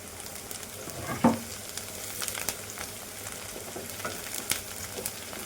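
Peas and cauliflower fry in a pan for a curry, a faint steady sizzle with a few soft stirring knocks and scrapes, quiet and close.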